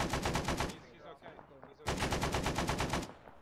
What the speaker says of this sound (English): I think someone just gunned him down.